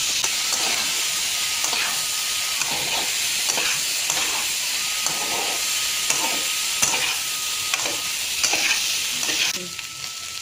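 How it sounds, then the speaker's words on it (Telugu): Onions and taro pieces sizzle and fry steadily in a pan, a continuous hiss with periodic stirring scrapes throughout, close and fairly loud with no talking. "సో ఉల్లిపాయలు అలాగే చామదుంపలు అయితే ఫ్రై అయినాయండి."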